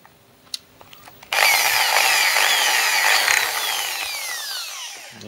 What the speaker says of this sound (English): Firstly, I'm just going to drill a pilot hole.